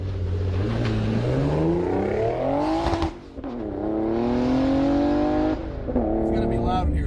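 A VQ35-engined track-build car with Tein Flex coilovers revs loudly and continuously, engine pitch sweeping up and down through several rises and falls, close and dominant, with voices talking faintly beneath.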